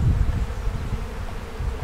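Honeybees buzzing at an opened, healthy beehive full of tightly packed brood: a dense, continuous low hum of many bees close by, with no voices.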